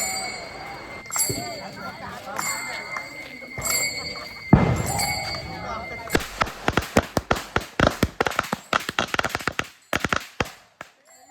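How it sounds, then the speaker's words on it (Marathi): A string of firecrackers bursts in rapid, uneven pops over a noisy outdoor crowd dancing at a Ganesh immersion procession, starting with a few louder bangs and then crackling quickly for several seconds. "फटाके फोडत नाचत गाजत गणपतीचं विसर्जन चालू होतं"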